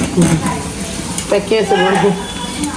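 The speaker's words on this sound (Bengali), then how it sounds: "এই ফ্রোজেন আইটেমগুলো আসলে আস্তে আস্তে করে ভাজতে হয়" Frozen chicken balls fry gently in a pan, sizzling loudly and close with stirring scrapes, while a person talks over the cooking.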